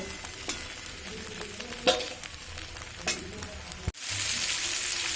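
Potatoes fry in hot oil with salt and turmeric, a close continuous sizzle punctuated by a few spoon clatters, then a sharp cut into a louder, brighter crackle.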